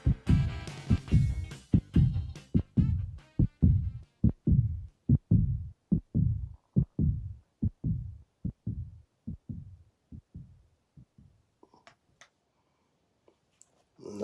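A heartbeat sound effect from a song: steady, loud, close double thumps repeating at a regular pulse, gradually fading and slowing toward silence, with faint music returning at the end.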